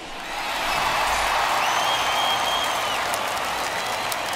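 Home stadium crowd roars steadily after a home run in MLB The Show 21, Tigers versus Twins, a broad sustained cheer swelling up and holding with faint whistles on top.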